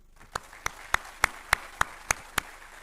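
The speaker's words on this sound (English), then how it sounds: "A round of applause, please." At a memorial lecture, sparse, evenly spaced claps ring out about nine times in a slow, regular rhythm, sharp and distinct against a quiet room, sounding like only one or a few people clapping.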